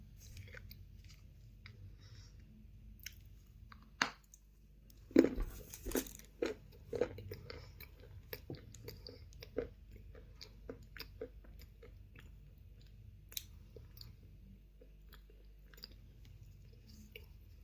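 Close, quiet chewing of crunchy Bashkir clay: sporadic crisp crunches and bites, with a cluster of louder crunches near the start, then slower, softer chewing.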